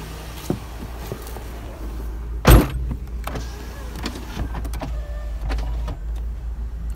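Power windows are worked on an older car with rusted doors: soft electric motor whirs over a steady low hum, broken by one sharp thump partway through and a few lighter clicks.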